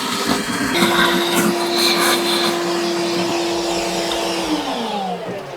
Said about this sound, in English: we used the vacuum and we cleaned up as best as we could